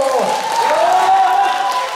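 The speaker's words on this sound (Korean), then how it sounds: "박수로 환영해 주세요." An audience at a Korean community festival and residents' singing contest applauds to welcome a guest singer onto the stage, steady clapping under a pitched tone that sounds like music or a voice.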